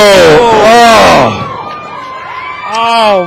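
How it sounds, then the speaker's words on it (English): Wrestling fans cheer and whoop loudly at a ladder match between Matt Sells and Drew Adler, the crowd roar swelling, dipping, then rising again, mixed with shouted voices. "Fans cheering there, that move"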